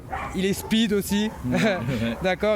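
A young Dutch Shepherd at an animal shelter in Salon-de-Provence lets out rapid, high yips, barks and whines close by, in a busy excited run, while a person talks over it.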